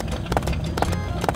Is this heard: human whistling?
no